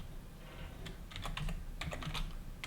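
Fingers typing on a computer keyboard, a close irregular run of crisp key clicks in short clusters over a low background hum.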